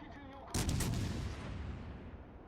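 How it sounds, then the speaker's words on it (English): A cruiser in World of Warships fires a salvo of armor-piercing shells: a sudden loud, booming blast that rolls on and slowly decays, heard alone without talk. "let's test out these AP rounds"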